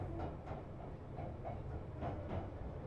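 Low rumble of a moving train heard from inside a public transport carriage, a steady faint drone with soft periodic swells and faint rattles.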